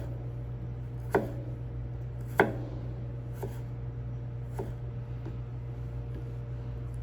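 A knife cuts carrot planks into quarter-inch julienne sticks on a board, giving five crisp, evenly spaced chops over a low steady hum.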